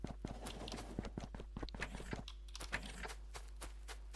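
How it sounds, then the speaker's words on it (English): Player character's rapid footsteps on concrete in the Factorio video game, a quick regular run of light clicky steps, fairly close and steady with no talk over them. "So listening to the footsteps, if you can hear them."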